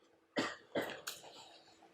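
Two sharp coughs from one nearby person, followed by a short throat-clearing burst, in a quiet room.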